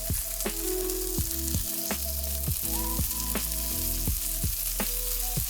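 Buffalo burger patties topped with cheese fry in a pan with a steady, loud sizzle, while clinks and taps of a spatula or utensil recur throughout.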